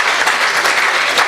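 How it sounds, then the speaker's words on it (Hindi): A mushaira poetry gathering audience breaks into loud, dense applause to welcome a guest, a continuous wash of many hands clapping close and strong. "एक बार जोरदार तालियों से इस्तकबाल।"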